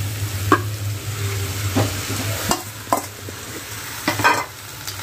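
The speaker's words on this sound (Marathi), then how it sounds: "चांगली फ्राय करूया आपण. आणि हे बघा इथे जी आपण मेथी चिरून घेतलेली आणि कोथिंबीर आणि चांगली धुवून घेतलेली आहे ती आपण यामध्ये घालत आहोत" Chopped fenugreek leaves and coriander are stirred in a frying pan, a steady sizzle with a low hum underneath and sharp scraping strokes of the spatula at irregular intervals, close and moderately loud.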